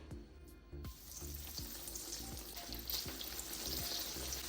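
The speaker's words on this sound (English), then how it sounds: "I am going to start adding the tomatoes to the hot oil" Green garden tomatoes slid into hot oil one after another, each landing with a soft plop that sets off a steady, close sizzle and crackle running throughout without talk.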